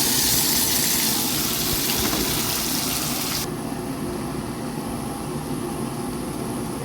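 Tomatoes added to a pan of sautéed garlic and onion, a loud steady sizzling hiss that abruptly softens midway into a quieter simmering crackle.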